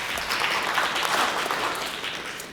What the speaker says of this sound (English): You can clap once now.